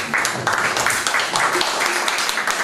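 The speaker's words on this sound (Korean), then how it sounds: "감사의 박수 한번 좀 주시면 좋겠습니다" An audience at an anniversary ceremony applauds together, a dense, even wash of many hands clapping that fills the room steadily and without a break. A voice talks faintly underneath.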